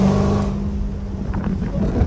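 A loud Dodge Hellcat engine drones with a deep, steady rumble that shifts slightly in the second half, close and continuous, with wind buffeting the microphone.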